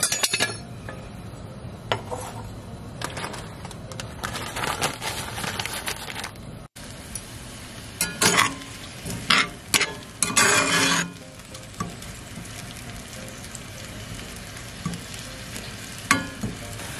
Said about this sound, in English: I'm just going to saute some of these chives for Nathan's